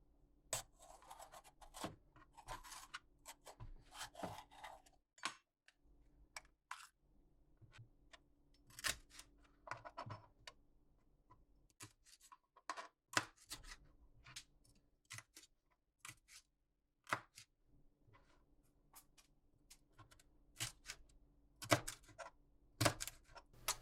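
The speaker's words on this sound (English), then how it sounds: "Then, deseed and chop up the red pepper." Knife chopping a deseeded red pepper on a cutting board while making chicken potato soup, heard as a quiet, irregular run of sharp taps and scrapes with short pauses, no talking.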